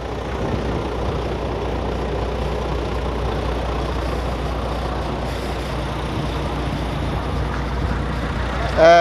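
A truck's diesel engine idles with a steady low rumble through the whole stretch, close and constant, ending with a brief sharp burst like an air brake release; no clear talk over it.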